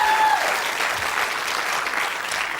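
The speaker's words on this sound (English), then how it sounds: "Round of applause." A television quiz show's studio audience breaks into steady, dense applause, many hands clapping evenly at moderate distance, with a brief voice at the very start.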